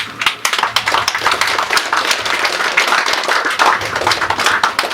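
Audience at a foundation day celebration claps loudly and continuously, a dense, close patter of many hands with sharp individual claps standing out throughout.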